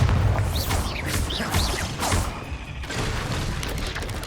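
Bombarda spell blasts in Hogwarts Legacy, a string of close, loud booms and crackling impacts over rumbling low end, with whooshing spell sounds between them.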